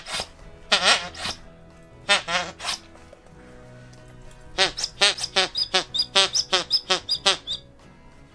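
A squeaky duck-shaped dog toy from a subscription box squeezed in bursts, first a few separate squeaks, then a long rapid rhythmic run of loud squeaks, close and clear.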